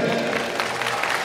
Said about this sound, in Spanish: aplauso para los siete que han cantado, por favor.